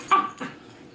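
A young Pomklee puppy, bred from a Pomsky sire and an Alaskan Klee Kai dam, gives two quick, close whimpering yips in a quiet indoor room.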